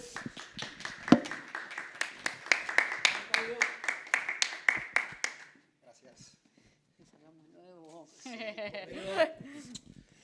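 A small audience at a book presentation claps to welcome a speaker, a quick run of crisp, distinct claps for about five seconds, then a pause before people start talking.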